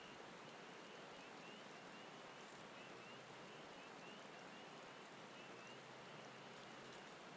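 Steady rain ambience from a Minecraft game world, a constant even hiss of falling rain with no music or voices, moderately loud and unchanging throughout.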